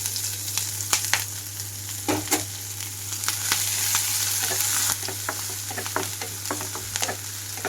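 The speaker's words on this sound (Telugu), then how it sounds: "కట్ చేసి పెట్టుకున్న ఉల్లిపాయలు పచ్చిమిరపకాయలు వేస్తున్నాను" Onions and green chillies fry in a pan with a steady sizzle and occasional scrape and clatter of stirring, close and continuous.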